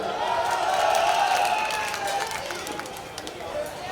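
A large crowd at an outdoor Republic Day mushaira poetry gathering breaks into a steady wash of clapping and cheering, dense and fairly loud throughout, with voices mixed into the din.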